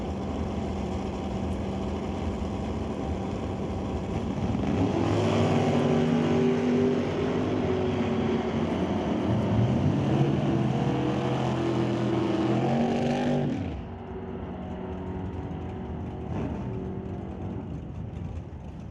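Drag race cars roar down the strip at an NHRA Northwest National Open Series event, a loud sustained engine howl with rising pitch sweeps that cuts off sharply, leaving a quieter distant engine rumble.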